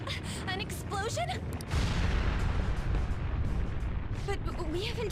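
A deep booming blast in the video game Persona 5 hits early, then a sustained rumbling roar carries on beneath short voiced game sounds and music.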